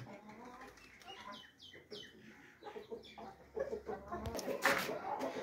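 Large hens cluck and squawk close by, with bursts of wing flapping and scuffling, growing busier and louder toward the end.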